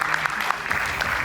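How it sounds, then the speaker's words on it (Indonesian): A studio audience on an Indonesian political talk show claps briefly for a panel guest, a short burst of scattered hand claps. "Kita berikan tepuk tangan untuk Bung Sylvester Matutina."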